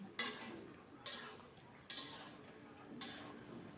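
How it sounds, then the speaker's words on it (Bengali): A spoon stirs bottle gourd in a cooking pot, giving four soft scraping clinks at roughly even intervals, close and fairly quiet. "নেড়ে ছেড়ে সব কিছু মিশিয়ে দিচ্ছি"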